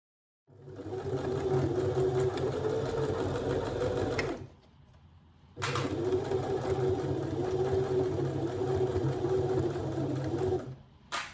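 A sewing machine runs steadily, stitching along the crease of a spring dress neckline, in two long close whirring bursts separated by a brief pause, loud and alone.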